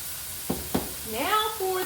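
Food for fried rice sizzles and spatters in a hot pan as it is stir-fried with garlic powder and seasoning, a soft steady hiss broken by a couple of clanks of the utensil against the pan and a brief whistling tone.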